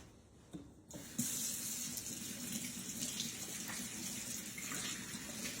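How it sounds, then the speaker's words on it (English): Hands rinsed under a running kitchen sink tap, starting with a brief clatter before the water flow turns on into a steady close hiss and splash that continues to the end. "I'm going to give my hands just a little bit of a rinse"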